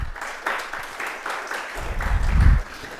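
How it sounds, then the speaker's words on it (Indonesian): An Indonesian church congregation claps during a Sunday service, with a lively, fairly close burst of applause that swells near the end over a low rumbling undertone. "Tepuk tangan bagi Tuhan."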